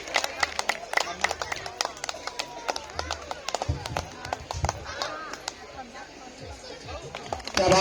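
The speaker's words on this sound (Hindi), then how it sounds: "एक बार तालियां होनी चाहिए" An audience claps for a live street performance involving a pigeon and a burning ring, with scattered, uneven hand claps that come and go amid crowd chatter and a speaking voice.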